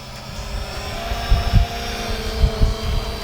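Holy Stone HS440 budget drone with brushed motors and gears, a steady whining buzz with rushing air from the props, close by, with low thumping bursts from handling or wind.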